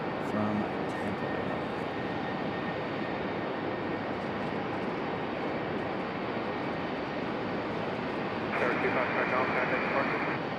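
A jet airliner departing Raleigh-Durham for Buffalo roars steadily and loudly, a dense unbroken engine rumble that swells slightly near the end.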